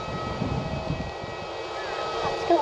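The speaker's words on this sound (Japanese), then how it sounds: "ここにある飛行機" An airplane at Ishigaki airport gives off a steady engine roar and whine that holds throughout, a constant broadband drone with faint low rumbling beneath it.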